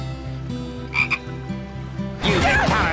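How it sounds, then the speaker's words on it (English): A cartoon frog croaks in short, close, throaty bursts over a steady musical backing, then a louder burst of noisy sound at the end. "Ooh, a frog!"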